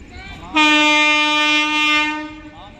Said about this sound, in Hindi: हॉकिंग मारते हुए आ रही है भाई।